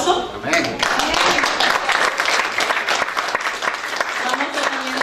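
A church congregation breaks into a big round of applause during a sermon, sustained, fairly loud clapping that fills the room while a voice keeps talking over it.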